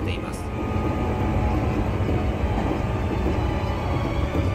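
A Seibu Shinjuku Line train runs through Higashi-Fushimi station without stopping, a loud, close and steady rumble of wheels and motors that fills the whole stretch.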